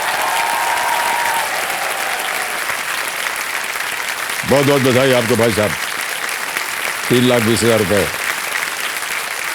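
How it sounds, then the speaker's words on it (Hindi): The studio audience of the TV quiz show Kaun Banega Crorepati Season 14 keeps up steady applause while a voice speaks over it in two short bursts. "तालियां बजती रहे देवी सर में।"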